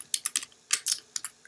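Keys on a computer keyboard are tapped in short, quick bursts of clicks, close and fairly crisp, with brief pauses between clusters and no talking.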